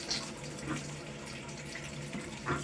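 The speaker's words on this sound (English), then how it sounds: "We're getting water out of there." Water running out of a toilet T-valve during a bidet sprayer installation, a continuous moderate rushing flow with a few small clinks.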